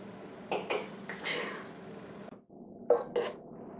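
Metal utensils clank and scrape against a metal pan, a few sharp clinks and rasping strokes, close and fairly loud.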